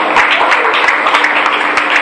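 A church congregation applauds newcomers during a Sunday service, giving a dense, loud, continuous wash of clapping with many overlapping hands and no gaps.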